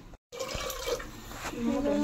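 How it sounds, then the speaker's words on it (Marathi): Water pours steadily into a pot, its pitch rising toward the end as it fills, with a voice talking over it. "इतकं पाणी टाकलं ना"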